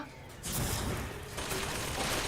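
Gunfire in the video game BioShock Infinite, a dense burst of shots that swells after a brief pause and keeps rattling loudly, with no talk over it.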